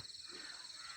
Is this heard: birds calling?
yes